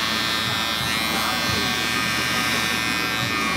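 Electric shaver running at a barbershop, a close, continuous high buzz that holds steady throughout, with people talking over it.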